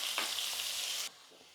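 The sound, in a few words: onions sautéing in a pan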